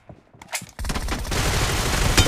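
M416 rifle fire in a mobile shooter game: a couple of short shots, then a sustained rapid automatic burst filling most of the clip, loud and close.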